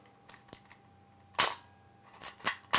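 A 35mm SLR film camera firing its shutter: several sharp mechanical clacks spaced apart, close and crisp against quiet handling noise.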